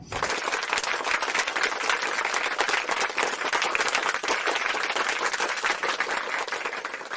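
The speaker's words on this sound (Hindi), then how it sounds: "उन सभी साथियों के लिए एक बार जोरदार तालियां।" Loud, sustained applause from a large audience, steady clapping throughout with no pauses or voices.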